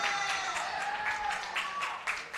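An audience at a church Christmas gathering claps steadily for a couple of seconds, a dense, even applause from a moderate-sized crowd with a faint whistle or voice ringing through.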